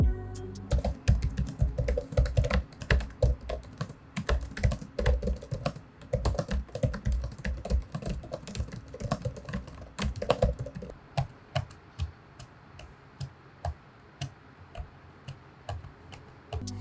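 Steady, rapid typing on an MSI Katana GF66 laptop keyboard with 1.7mm key travel, light, crisp key clicks close up, continuing with a few pauses and no voices.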